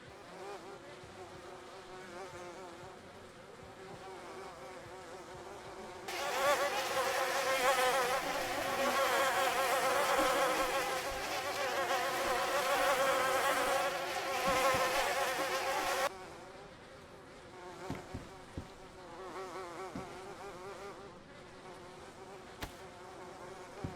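A swarm of bees in a video game buzzes loudly for about ten seconds in the middle, a dense droning hum that stops abruptly, with quieter game sounds before and after.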